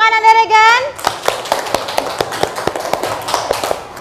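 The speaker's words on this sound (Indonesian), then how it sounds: "Tepuk tangan dulu untuk Ananda Regan." Classroom applause for a student group presenting: a burst of scattered claps from many children, fairly close, following a short voice at the start and continuing unevenly for several seconds.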